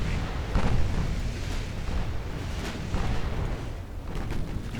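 Warship guns fire in a 1920s naval battle game, deep rumbling booms rolling over a dense continuous low roar, with several heavier thuds spread through the stretch, no talking.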